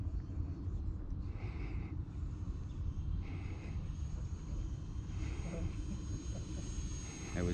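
An E-flite A-10 Thunderbolt II RC jet with 64mm electric ducted fans flies at a club field, giving a steady whooshing whine with a faint pulsing tone over a continuous broadband rumble, while people talk nearby.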